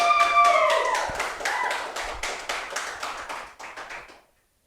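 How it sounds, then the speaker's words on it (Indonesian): Applause for an insurance industry virtual celebration, a short burst of distinct, fairly sparse hand claps that thins out and stops after about four seconds, with a brief whistle-like tone at the start. "kita beri tepuk tangan yang meriah untuk Virtual Celebration"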